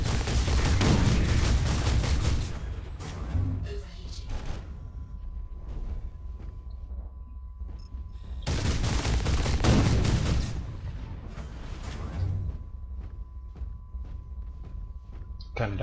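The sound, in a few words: gunfire in the video game Hawken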